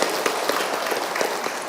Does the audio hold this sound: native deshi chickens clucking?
no